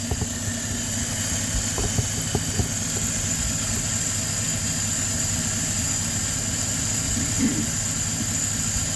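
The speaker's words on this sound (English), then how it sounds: "close the choke a little bit and actuate the throttle from the engine compartment" A LaSalle car engine idles with a steady low rumble and a faint squeal while its throttle is worked from the engine compartment, giving a few brief knocks and blips near the start.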